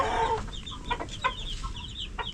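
Chickens clucking nearby, a run of short, choppy clucks with a few higher squawks, fairly loud and with no voices.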